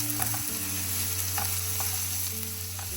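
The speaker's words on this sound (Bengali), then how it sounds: "ভালো করে নাড়িয়ে নিব পেঁয়াজ আর রসুন একসাথে।" Onion and garlic are stirred and fried in a pan, giving a steady sizzle with scraping strokes of a utensil close by.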